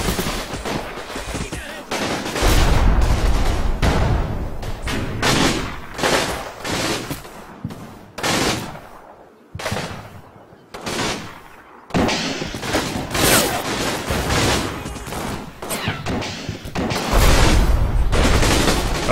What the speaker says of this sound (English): Are they all firing Panzerschrecks at me?